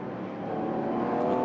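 Historic VHC V2V race car on Michelin tyres circling a track, its engine a loud, steady roar that holds and swells slightly across the moment, with no pause or break.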